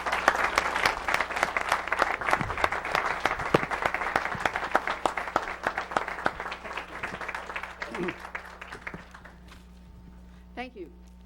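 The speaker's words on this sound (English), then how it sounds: "Would everyone please give these kids a round of applause?" An audience at a city council meeting in Haltom City applauds the winning kids, a steady patter of many hands clapping that gradually thins and fades, with a brief voice at the end.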